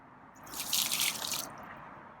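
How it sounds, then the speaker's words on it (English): Water is dumped out of a feral cat's bowl outdoors, a brief close splash that swells and fades over about a second. "So I'm gonna dump his water"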